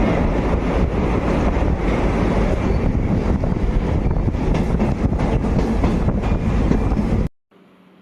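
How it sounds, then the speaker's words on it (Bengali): A train crossing the Sevoke river bridge near Siliguri, heard from on board as a loud steady roar of wheels and wind with rhythmic clatter, cutting out abruptly near the end. "দেখুন নদীটা আমরা পার হচ্ছি ট্রেনের উপর দিয়ে।"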